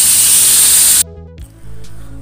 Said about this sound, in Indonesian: goreng ikan sampai menguning, kemudian baru nanti akan kita balik ya.